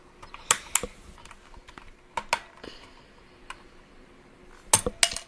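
Keycaps on a white Redragon Kumara mechanical keyboard click and clack as one is worked loose and pulled off, a scattered series of sharp plastic taps and scrapes close up, with no talk over it.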